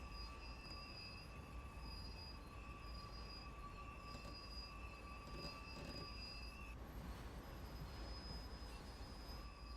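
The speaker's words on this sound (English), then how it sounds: "Let's go and stop the train." A video game train in Train Sim World 2, pulling tank cars, rolls steadily with a continuous rumble and sustained high metallic squeals from the wheels as it brakes to a stop, loud and close, with no voices.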